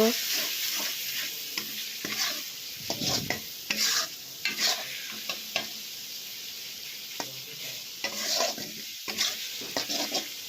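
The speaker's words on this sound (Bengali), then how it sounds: "মশলাটা এখন কষিয়ে নেব" Spice masala sautés in a pan for an egg and potato dish, continuous frying sizzle broken by repeated scraping and stirring strokes of a utensil against the pan, close and fairly loud.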